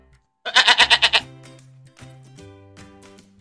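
A goat gives a loud, close bleat of rapid quavering pulses lasting under a second, followed by soft stepped musical tones.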